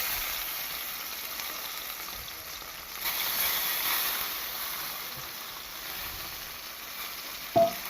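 Tomatoes hit a hot oiled pan while Maggi noodles are being prepared, giving a steady broadband sizzle that swells briefly around the addition and runs on evenly, with a short clatter near the end and no voices.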